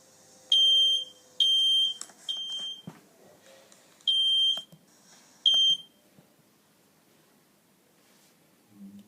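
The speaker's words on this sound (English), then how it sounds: "you can hear the fire alarm sounds ringing in your home on your phone" Smoke alarm sounding in a home, four loud, shrill electronic beeps in a broken pattern, each about half a second long, with quiet rustling in between and no talking.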